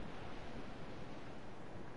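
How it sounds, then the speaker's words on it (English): Wind and ocean waves while sailing in the game Assassin's Creed Black Flag, a steady close wash of rushing water and breeze, continuous and even with no voices. "Just the wind and the water."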